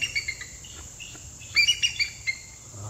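Thin, high-pitched chirping calls from five bald eagles come in quick bursts against a quiet outdoor background, some sharp and piercing, repeating in short clusters.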